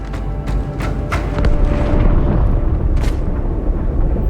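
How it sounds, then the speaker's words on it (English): A loud, sustained explosion rumbles in the Halo 2 Anniversary game as a blast erupts inside a space station, with deep booming roar and a few sharp bursts on top. "That explosion came from inside the Athens, same as the Malta."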